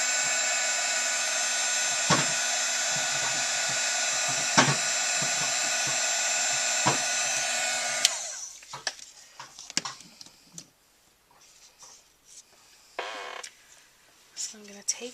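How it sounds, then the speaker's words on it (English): A heat gun blows a steady, loud whooshing roar while melting embossing powder on a stamped image for scrapbook glitter work, with clicks in the background, then cuts off about halfway, leaving quiet handling noises. "the heat gun is very hot"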